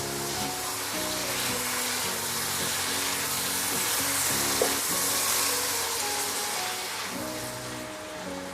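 Fried potatoes and pork belly stirred while frying in a pan, a continuous dense sizzle with soft stirring and light scraping, close and steady, with no talk.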